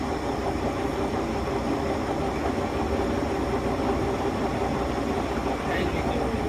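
The headstock of a Mori Seiki gap bed engine lathe runs with a continuous, dense mechanical whir and rumble, steady and fairly loud from start to end.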